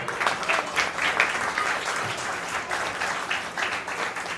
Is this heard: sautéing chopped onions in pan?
no